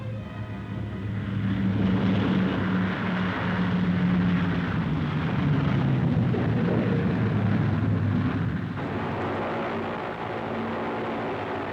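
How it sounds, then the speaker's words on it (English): Boeing B-29 Superfortress bomber with Wright engines arriving at an air base, a loud, steady, rumbling roar of piston engines that swells and holds throughout, with a grainy old newsreel quality. "The Superfortress B-29 arrives at Chikulia Air Base on April 19th after a"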